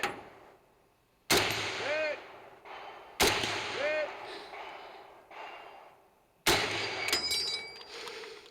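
Rifle shots at an outdoor shooting competition, three loud sharp cracks spaced a couple of seconds apart, each with a long ringing decay, heard alongside the shooter's heavy breathing.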